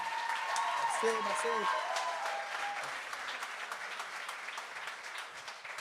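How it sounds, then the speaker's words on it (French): Audience applause for Olivier, a 22-year-old comedian on his second show, at a stand-up comedy show; steady clapping fills the whole stretch, fading slightly toward the end, while someone speaks briefly over it at the start. "On peut l'applaudir."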